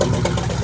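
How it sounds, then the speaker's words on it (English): A 1957 GMC truck engine idles steadily after sitting abandoned for decades, a close, continuous low rumble with an even throbbing pulse and no pauses. "The engine's running."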